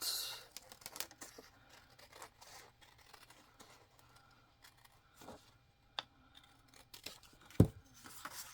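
Scissors snipping through a paper envelope being cut into pockets, a few faint, scattered cuts and rustles close by, with one sharper snip near the end.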